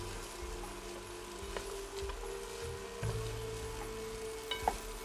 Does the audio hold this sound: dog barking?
no